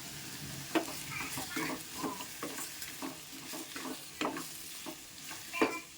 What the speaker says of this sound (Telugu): ఇప్పుడు టమాటా ముక్కలు కూడా మగ్గించుకుంటున్నా